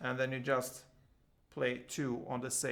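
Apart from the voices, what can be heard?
No everyday noises stand out.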